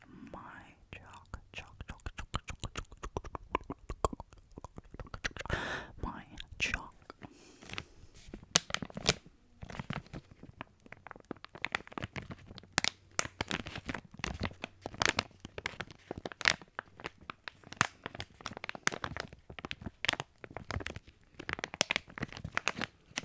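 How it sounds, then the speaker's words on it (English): A crinkly plastic bag holding gym chalk is handled close up, giving a steady run of soft crackles and crunches, with quiet whispering throughout. "Came in a really nice, crinkly, plastic sounding bag."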